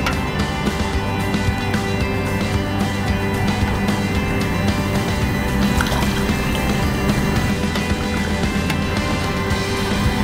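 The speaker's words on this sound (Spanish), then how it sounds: "y agregamos dos tazas de agua." Two cups of water poured into a rice mixture seasoned with soy sauce and honey, a steady close liquid splashing and gurgling that runs the whole time without talk.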